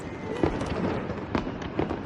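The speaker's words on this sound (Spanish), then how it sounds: "Los fuegos artificiales son las llamas que más se parecen a las estrellas fugaces." Fireworks bursting in a drama scene, with several sharp pops and crackles spaced through the sound at moderate distance over a steady background rumble.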